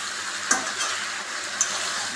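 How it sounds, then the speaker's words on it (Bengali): Mutton kosha sizzles in an uncovered pot as it is stirred, with a steady frying hiss broken by two sharp knocks of the spoon against the pot. "ঢাকনা খুলে এবার নাড়াতে হচ্ছে।"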